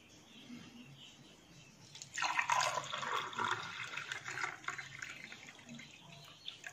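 Hot water pours into a glass in one steady stream that starts suddenly and slowly tapers off. It is fairly close and quiet, with no talk over it.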